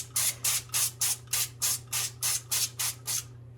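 Oil spray misted onto the underside of cauliflower set on parchment, in about a dozen short, evenly spaced hissing bursts, fairly close and steady, with a faint low hum beneath.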